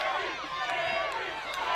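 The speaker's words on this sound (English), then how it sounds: "And now the crowd chanting Gary, Gary." Wrestling arena crowd at an SICW All-Star Wrestling show chanting a name in a steady, dense roar of many voices, continuous and fairly loud throughout.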